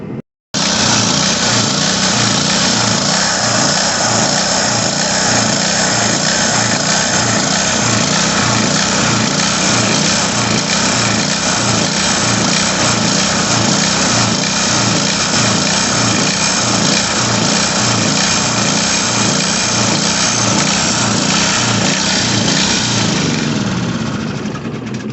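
The small engine of an Excell 2400 PSI pressure washer runs steadily and loudly up close for over twenty seconds while a wire brush cleans the pump shaft, a buzzing high-revving drone that cuts off at the end.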